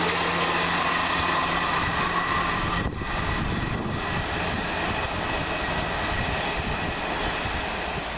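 A First Great Western passenger train on the Cardiff Central to Portsmouth Harbour service runs past at Hilsea, a loud, steady rumbling roar of engine and wheels that holds throughout, with faint rhythmic clicks of wheels over rail joints.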